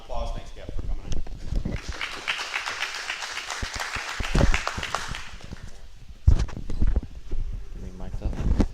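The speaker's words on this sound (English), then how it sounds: "Please give him a round of applause." Clapping from a small group builds into a dense patter for a few seconds, then tapers off as voices and shuffling noises take over.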